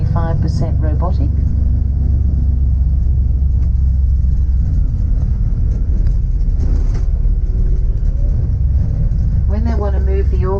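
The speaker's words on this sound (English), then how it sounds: "They're called trackmobiles. Now that's moving this loco at the moment" A trackmobile moves a locomotive inside a rail workshop, a heavy continuous low rumble of the machine and rolling stock, with someone talking over it at the start and end.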